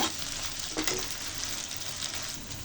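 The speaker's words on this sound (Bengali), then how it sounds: "শুটকি ভালো করে ধুয়ে আর দিয়ে দেব লবণ, দিয়ে ভালো করে ভেজে নিব" Washed dried fish (shutki) with salt fries in a pan, a steady low sizzle and crackle that runs continuously at moderate level with no voices.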